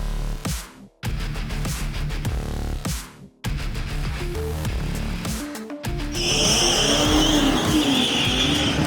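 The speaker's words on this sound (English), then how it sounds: "Full pedal to the metal, and let's see how quickly we can go in these cars." BMW cars race at full throttle on a drag strip in Abu Dhabi, loud engines revving hard through rising gear pulls with brief gaps at each shift, then a sustained roar with squealing tires.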